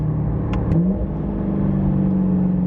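A modified Chevrolet C8 Corvette engine hums steadily from inside the car while cruising at 45 mph, a smooth continuous drone with a slight pitch shift near the start, loud and close, no talking.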